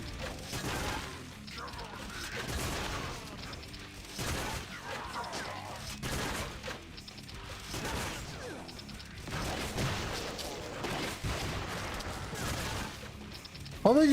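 Rapid weapon fire from the Painkiller video game as a gun's ammo is emptied, with dense bursts of shots, clanking mechanisms and crashes running continuously, mixed with faint voices.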